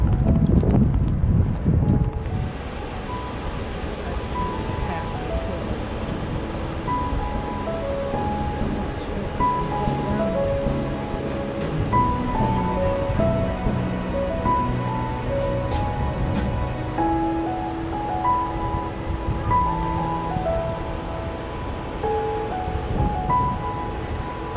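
Ocean surf rolls onto the beach at Westport, Washington, a steady roar of breaking waves with wind buffeting the microphone, continuous and fairly loud throughout.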